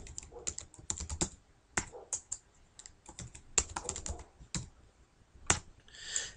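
Someone types a password on a computer keyboard, producing irregular bursts of close, crisp key clicks with short pauses between them.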